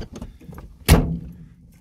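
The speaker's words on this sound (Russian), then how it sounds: "двери лучше закрываются, чем у меня" A car door slams shut with a single solid thud, close and loud, after some faint rustling and handling noise.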